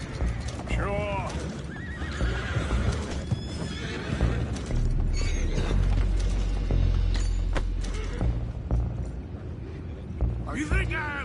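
Horses whinny repeatedly over clopping hooves in a Red Dead Redemption 2 scene near a boat anchor, loud and close, with mechanical creaks and game dialogue layered over them.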